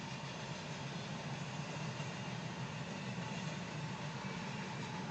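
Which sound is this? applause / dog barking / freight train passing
freight train passing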